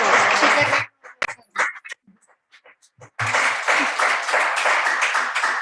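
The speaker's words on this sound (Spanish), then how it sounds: "Vamos a aplaudir un poco a las 3." Audience applause at a presentation of a journal issue on feminist urbanism: a loud burst of clapping, a short lull with scattered voices, then a second sustained round of clapping.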